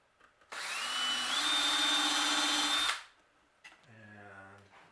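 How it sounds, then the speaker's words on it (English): A countersink drill bit bores into wood while a bat house kit is assembled, a loud steady power-drill whine rising in pitch and holding for about two and a half seconds before winding down, followed by a brief voice. "Get your countersink bit, make sure it's snug."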